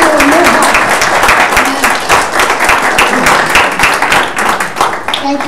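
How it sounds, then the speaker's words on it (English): Church congregation applauding together during a worship service, steady sustained clapping filling the room from start to finish, with a few voices mixed in. "we want to just clap and thank God"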